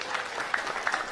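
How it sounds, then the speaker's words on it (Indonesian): Scattered audience applause at a religious sermon gathering, a short, thin burst of clapping with a few sharper claps standing out and no speech over it. "Tepuk tangan."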